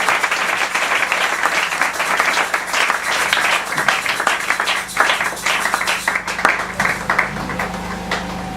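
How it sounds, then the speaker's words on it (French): Church congregation clapping and cheering in acclamation during a service, a lively, continuous stream of claps with some rhythmic accents and scattered voices, steady and moderately loud throughout. "que l'Église reçoive cette parole par de fortes acclamations"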